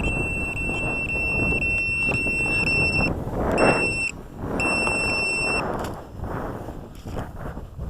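Steady high electronic beeping tones of a drone's low battery warning repeat in bursts, cutting in and out over a loud whirring motor hum, then the beeps stop as the noise fades when the battery dies.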